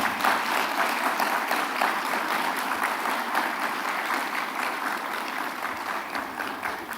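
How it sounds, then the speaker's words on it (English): An audience applauds Kenya Space Agency staff and board members standing at a closing ceremony, a dense, steady wash of many hands clapping that carries on evenly throughout, fairly close and full. "please just stand up so that you get a round of applause as well"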